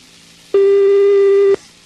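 A single steady telephone line tone lasting about one second, loud and close, with quiet room background before and after.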